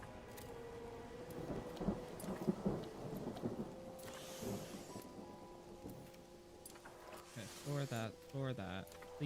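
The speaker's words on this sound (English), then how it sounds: "Rain." In the video game Mind Over Magic, rain patters steadily while thunder rumbles and cracks in a few loud bursts. A voice speaks over it.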